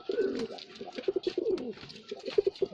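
Pigeons coo repeatedly in a village loft in India, a near, steady series of soft rhythmic coos with overlapping calls and no talk.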